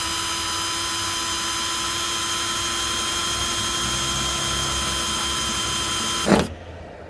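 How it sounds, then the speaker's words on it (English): A power drill with a 3/16 bit bores an initial hole for mounting a duckbill spoiler, a steady loud whine running for about six seconds before stopping abruptly. "Now to use a 3/16 drill bit to make the initial hole."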